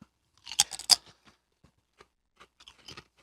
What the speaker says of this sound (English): Listen for the crunch.